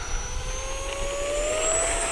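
An Arrows RC Sabre F-86 64mm electric ducted-fan model jet on a fast pass down a runway, a steady loud whine and rush with a rising tone as it flies close by, no voices.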